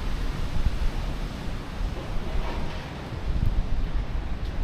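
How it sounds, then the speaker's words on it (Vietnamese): Sea waves and wind at Nam O beach in Da Nang, a steady rushing wash of surf with gusty wind buffeting the microphone, swelling slightly in places, no voices. "đấy biển Nam Mô đây."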